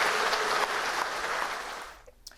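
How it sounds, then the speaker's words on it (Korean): Applause from a Korean audience for candidate Ahn Cheol-soo after his speech, a dense steady patter of many hands that starts loud and then thins and fades out toward the end. "정말 감동적인 연설을 해주신 우리 안철수 후보께 다시 한번 큰 박수 한번"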